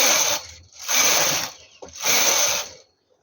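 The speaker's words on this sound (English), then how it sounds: "press the button to hold and knit 6 rows" Knitting machine carriage sliding back and forth across the needle bed while knitting rows for a baby hat, three loud mechanical passes with a ratcheting clatter, separated by brief pauses and ending in quiet.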